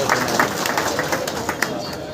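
An audience at a political meeting claps to welcome guests, a short burst of scattered, moderately loud hand claps over crowd murmur.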